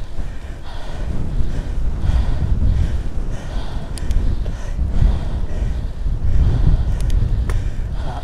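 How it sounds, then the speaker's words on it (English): Strong wind buffets a cyclist's microphone while riding a gravel bike on the Llangynidr Mountain road, a loud, continuous low roar that surges and drops throughout. "Wind still blowing me all about."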